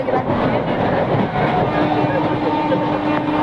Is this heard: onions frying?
no